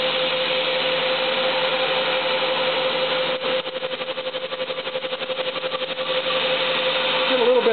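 A Haas TM-1 CNC mill threadmills grooves into Delrin stick with a steady, loud machining whine. Midway it breaks into a rapid pulsing chatter, then settles back into the smooth cut.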